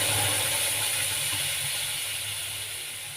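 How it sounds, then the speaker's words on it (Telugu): A mixer grinder jar blends papaya pieces in a home kitchen, giving a steady, loud whirring drone with a hissy edge that runs unbroken and eases off slightly toward the end. "ఇది మిక్సీ జార్ పట్టు పెట్టుకున్నాం కదా పప్పాయ ముక్కలన్నీ దీనిలోకి వేసుకునేది"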